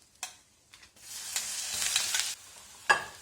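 Crushed coconut mix for a Kerala-style onion thoran tipped into a pan and stirred, a few sharp scrapes followed by a sustained sizzle and a final clack.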